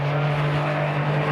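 De Tomaso race car in a 1995 GT race at Silverstone, trailing smoke, holding a steady loud engine drone with a strong low tone and no gaps in the sound.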